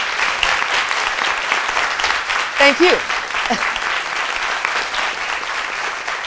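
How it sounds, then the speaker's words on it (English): An audience applauds a speaker and moderator at a public forum talk, a steady wash of clapping throughout, with a brief spoken thanks from someone at the front partway through. "how about a round of applause for our speaker and our moderator?"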